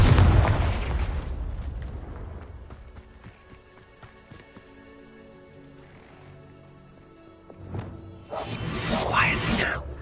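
A Confringo blasting spell goes off in Hogwarts Legacy, a loud booming burst at the start that decays into a rumbling tail, with a second swooshing blast near the end and faint spoken voices between.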